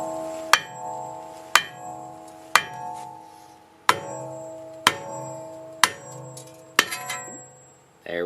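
Heavy hammer blows ring out against a stuck front brake rotor on a Volkswagen MK6 Golf R, about eight loud metallic strikes at a steady pace, each leaving a resonant clang that decays before the next.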